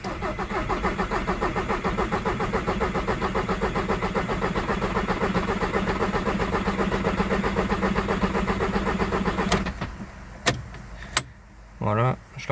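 A VW Golf 4 GTI TDI engine cranks steadily on the starter for about nine seconds, with no start, while oil is primed through a newly fitted turbo. It stops abruptly, followed by a few sharp clicks and brief faint noises.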